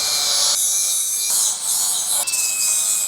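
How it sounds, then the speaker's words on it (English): High, whining power sander grinding mill scale off the top of a steel rear hanger for a Southland dump trailer, loud and continuous, its pitch shifting as the pressure changes. "I forgot to sand the top of this to get all the mill scale off of it"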